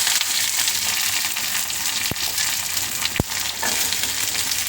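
Curry leaves and onion frying in hot oil for a ridge gourd palya, a loud, dense, steady sizzle close up, broken by two brief sharp clinks.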